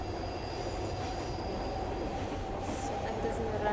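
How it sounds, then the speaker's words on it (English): Public passenger train running, a steady rumbling roll with faint wheel squeal high above, continuous and fairly close throughout. "It's a public train."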